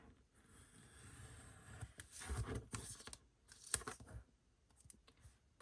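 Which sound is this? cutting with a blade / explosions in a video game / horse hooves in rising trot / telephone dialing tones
cutting with a blade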